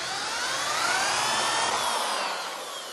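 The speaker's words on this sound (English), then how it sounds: "I got all the holes drilled after much drilling and grinding and pain and crying" A power drill fitted with a cheap, poor-quality bit bores holes while building a homemade propane burner. It gives one continuous, loud, high-pitched grinding whine that runs for about three seconds with no voices, easing off slightly at the end.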